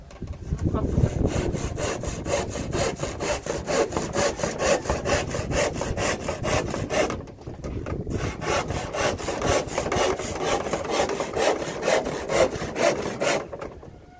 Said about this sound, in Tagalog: Mano-mano lagari natin ngayon.